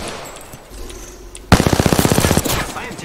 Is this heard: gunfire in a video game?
yes